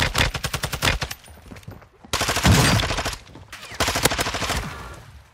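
Rapid automatic gunfire in a Call of Duty–style multiplayer shooter, loud bursts of rattling shots in rhythmic volleys broken by short pauses, with a faint voice underneath.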